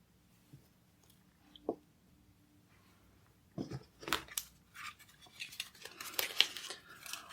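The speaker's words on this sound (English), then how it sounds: "So let's shuffle the cards and see what we pull." Crisp rustling and soft slapping of tarot cards being shuffled close by, quiet at first and then building into busy, repeated riffling toward the end.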